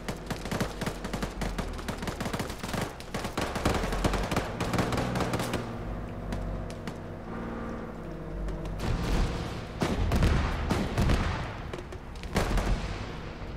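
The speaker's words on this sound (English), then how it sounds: "there was shooting close to me" Sustained gunfire crackles through a military video game firefight, with rapid bursts and repeated shots layered over a dense, continuous din, loud and close, with no talk.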